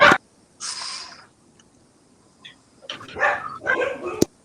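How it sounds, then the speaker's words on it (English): Dogs bark and yip a few times in short bursts, fairly close, with quiet gaps between them and no talking. "Dogs are howling."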